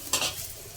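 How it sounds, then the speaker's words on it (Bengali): Small puti fish fry in hot oil in a pan, giving a soft close sizzle with a brief stirring scrape near the start, then a quiet fading crackle. "মাছটা কিন্তু লাল লাল করে ভেজে নিচ্ছি।"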